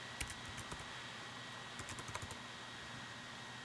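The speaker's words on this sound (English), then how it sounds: "So we're just going to type that in." Keys on a computer keyboard tapped in two short, close bursts of typing over a faint steady background hum.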